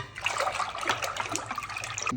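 Water is poured into curd to make buttermilk, a steady close splashing and gurgling stream that runs continuously for a couple of seconds.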